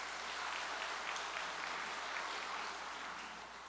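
A distant audience claps in a dense, steady wash of applause that fades a little toward the end, heard after congratulatory speeches at a Korean ceremony.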